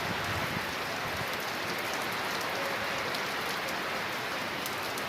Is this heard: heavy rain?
yes